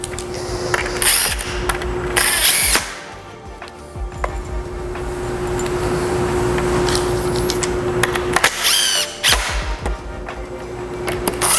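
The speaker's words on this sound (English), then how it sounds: "you're just pre-drilling through the 1/8 inch holes that are already on this piece and into the grain" A power drill whirs in bursts, pre-drilling through 1/8 inch holes into wood grain, a sustained steady run in the middle, with clattering and handling noises between runs, close and loud.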